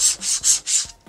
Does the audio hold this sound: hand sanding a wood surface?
yes